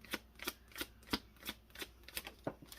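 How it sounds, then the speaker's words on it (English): Tarot cards shuffled in a steady run of about ten crisp riffling bursts, close and fairly quiet, with no voices. "One more shuffle, please, and thank you."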